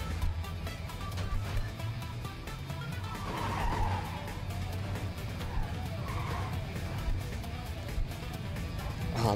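Trucks driving and skidding in the video game Clustertruck, with a continuous engine roar and tire-squeal skids throughout, loud and unbroken, without talk.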